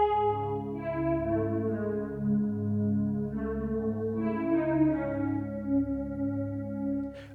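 An Arturia DX7 chorus pad synthesizer patch holds dark, washed-out sustained chords with a shimmering chorus, shifting smoothly between harmonies for about seven seconds with no talk.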